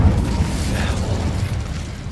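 A continuous roaring, crackling burst of fire from the Incendio spell in Hogwarts Legacy, loud and close, sustained for about two seconds without speech.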